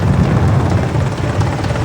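A rescue helicopter hovers directly overhead during a storm basket rescue, its loud, steady rotor thump and engine roar filling the whole stretch without a break.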